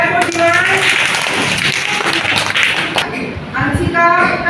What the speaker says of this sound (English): Clap for Divan